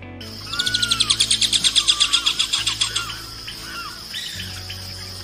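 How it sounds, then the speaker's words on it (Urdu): Amazon kingfisher calling with a rapid run of high, sharp whistle-like notes that rise then fade over a few seconds, steady low hum beneath and faint chirps afterward. "یہ پرندہ عام طور پر اپنی مخصوص سیٹی نما آواز سے اپنی موجودگی کا اظہار کرتا ہے"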